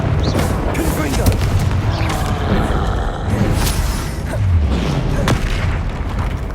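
Repeated booming Confringo spell blasts in Hogwarts Legacy combat, several sharp impacts over a dense rumbling background, with intermittent speech.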